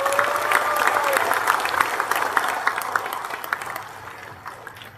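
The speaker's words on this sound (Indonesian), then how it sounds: "diberi tepuk tangan yang paling meriah" Crowd applause for a party chairman during a political speech, dense steady clapping from a large audience that holds at an even level throughout.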